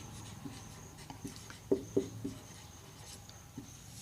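A few light, scratchy strokes of writing on a board in a classroom-style room, sparse and faint against a steady background hum.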